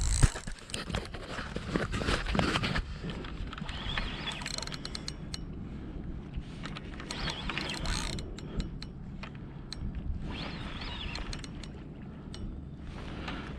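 A spinning reel cranks in a cod or coalfish from the Norwegian shore, giving a continuous close ratcheting, clicking mechanical whir with a creaky texture, steady and unbroken without talk.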